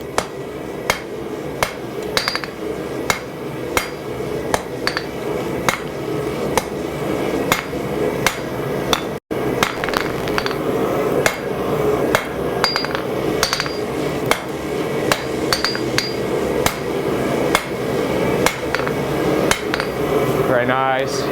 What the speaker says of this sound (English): tilting the hammer back over towards myself as I then come back to the near side of the anvil and continue forming the reverse taper